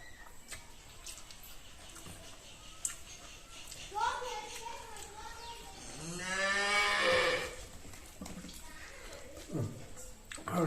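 A cow moos loudly, a long drawn-out call near the middle with shorter lowing before it, set in a quiet home setting with faint background noises and no clear talk.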